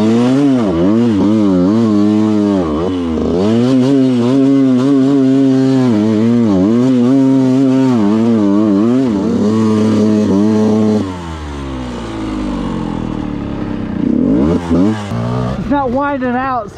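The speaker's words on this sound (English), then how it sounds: "It's not revving out like it's supposed to." A Yamaha YZ125 two-stroke dirt bike engine running rich revs hard again and again, climbing and falling in pitch and struggling to wind out. It is close and loud, and it settles to a rougher idle near the end.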